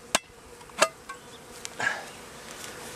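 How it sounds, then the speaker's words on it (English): A hive tool punches holes in a can near a box of bees: a few sharp, separate metallic clicks and taps spread over a few seconds, with a soft insect buzz underneath. "I'm going to take my hive tool, and I'm going to punch some holes in here quick"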